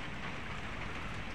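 Heavy rain during a storm with wind pours down as a dense, even wash of noise, constant and close throughout the brief stretch with no voices.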